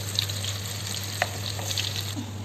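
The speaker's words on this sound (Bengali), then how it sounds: "এবার আমরা আলুটাকে ভালো করে গোল্ডেন করে ভেজে নেব।" Parboiled potatoes for biryani frying until golden in a pan, giving a steady, faint close sizzle with a few small pops and a low hum underneath.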